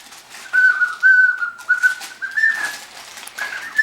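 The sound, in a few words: child imitating a bird call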